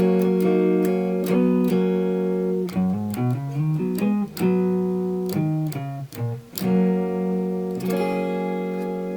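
A Stratocaster electric guitar on its neck pickup, through a clean Fender amp simulation, plays a warm, mellow run of single notes and chords, clear and close, with no voices.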